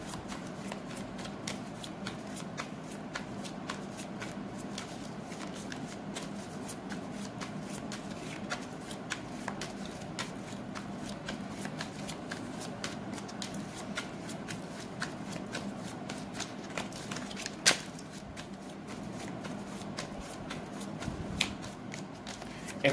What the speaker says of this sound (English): Excuse my shuffling, I'm very particular in terms of picking a card.